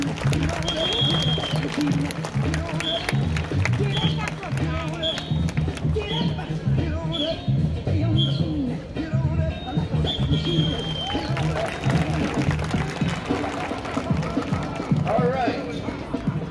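A street crowd in Old Quebec claps along for a performer, producing a steady rhythmic pattern of hand claps amid crowd murmur and the performer talking over it.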